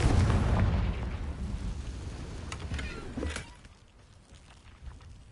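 A Confringo blasting spell goes off in a Harry Potter video game, a loud rumbling boom at the start that decays over several seconds, with a few softer thuds and crackles trailing after.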